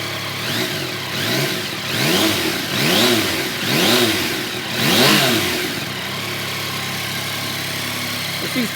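A 2016 Yamaha XSR900 motorcycle engine idles, then revs in about five quick, rising and falling throttle blips before settling back to a steady idle, close and fairly loud.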